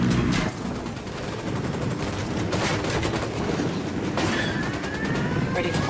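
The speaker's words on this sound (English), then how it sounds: "I'm opening fire." Bursts of gunfire in the tactical shooter Ghost Recon Wildlands, loud and dense over a constant rumbling game backdrop, with a few sharper cracks standing out near the middle and toward the end.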